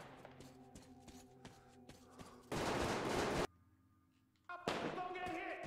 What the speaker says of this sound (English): I guess we head towards where these gunshots were going off.